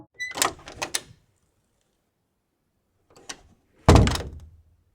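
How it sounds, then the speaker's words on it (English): A house's front door opens late at night: a cluster of solid thunks and rattles, a short quiet gap, then a faint knock and a louder heavy thud as the door swings, close and alone. "I heard the front door open"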